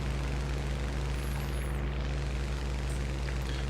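Engine drone of a Typhoon fighter plane in the War Thunder video game during a Tier 3 British arcade battle: a steady, loud, continuous roar with no talk, holding even across the short stretch.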